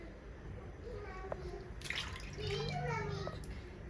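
Tap water splashing and running while fish is rinsed during cleaning, a steady wash of water sounds with a voice in the background.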